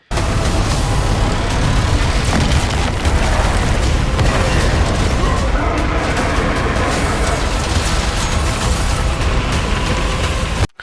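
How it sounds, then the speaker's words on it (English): Orbital bombardment explosions in Total War Warhammer 40,000 footage: a dense, continuous barrage of loud booms and bursts with rumbling low end and crackling impacts, sustained for the whole stretch without talk. "We've got some kind of like mini exterminatus, probably more of an orbital bombardment kind of thing going on"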